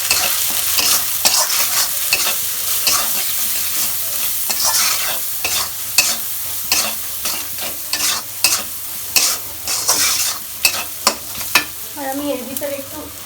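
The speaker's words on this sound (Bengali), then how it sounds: "আর এখানে যে আমি হলুদ দিলাম আর দিলাম আমি এটাকে ভালোভাবে কষাই নেব" Spiced meat with turmeric sautéed in a pan for a rainy-day khichuri, a spatula scraping and stirring in repeated uneven strokes over a steady close sizzle, with a brief tonal sound near the end.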